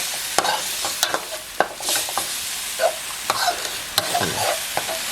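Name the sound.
stir-frying glass noodles with sauce in a pan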